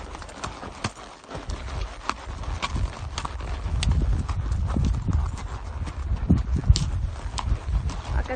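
Horse hooves clip-clop steadily at a relaxed pace as the horse is ridden downhill on a mountain trail with a loose rein, close to the microphone, with light wind and occasional faint talk.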